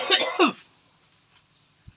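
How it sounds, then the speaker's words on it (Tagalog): Two quick, close coughs at the start, then near silence with a faint small knock at the end. "Inuubo ka."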